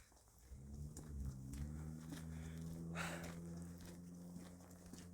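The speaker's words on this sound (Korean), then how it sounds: "이 바람이 너무 부는 것이 아닌 차 소리였습니다" A car passes outside, heard faintly at a distance as a rising and falling engine whir, mistakable for wind, with a low hum throughout and small scattered taps nearby.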